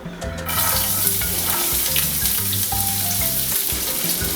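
Chole beans sizzling in clarified butter in a pan, a steady dense crackling fry that starts abruptly and runs on loud and close, no voices.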